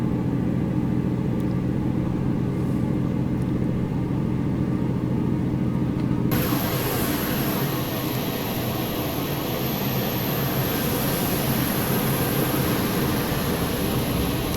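Diesel engine drone of a DTM Union Pacific DD35 locomotive in Train Simulator Classic: a steady low rumble throughout, joined midway by a brighter hiss and a thin high whine that hold to the end, with no talk.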